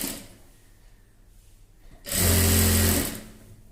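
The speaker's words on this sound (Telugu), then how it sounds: "ఇలా చిన్నగా ఫోల్డింగ్ చేసి స్టిచ్చింగ్ చేస్తున్నాను" A sewing machine stitches a small folded frock hem: quiet rustling and handling at first, then a loud, steady whirring run of about a second before it stops.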